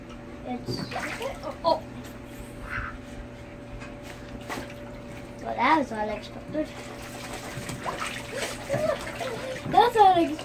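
A duck splashes in bathtub water indoors: soft, scattered splashes and drips come and go over a steady low hum, while people talk now and then.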